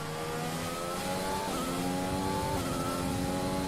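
Race car engine accelerating through the gears in the F1 2020 racing game at the Japanese GP, a steady loud revving whine climbing in pitch with two quick gear shifts, heard alone.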